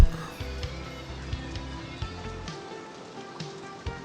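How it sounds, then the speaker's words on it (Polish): Rain falls in the video game Two Point Campus, a soft continuous patter running under a low repeating game rhythm with a few brief clicks. "O, pada deszcz."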